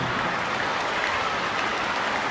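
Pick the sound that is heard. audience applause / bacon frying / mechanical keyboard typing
audience applause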